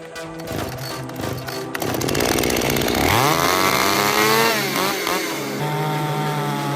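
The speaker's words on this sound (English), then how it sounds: "The Steel MS-382 chainsaw blends with the sound of wood shattering, like a powerful symphony of destructive power." A Stihl MS-382 chainsaw cuts into a teak tree, starting with a choppy idle and then rising into a loud, steady high-pitched whine that holds as the chain bites through the wood.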